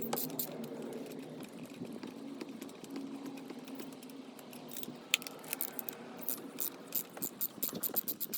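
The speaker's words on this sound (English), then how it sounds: "You can initially loosen it a little using a ratchet" A ratchet loosens the spark plugs on a Vauxhall Corsa, giving faint, close clicking that grows into quick irregular bursts of sharp ticks toward the end.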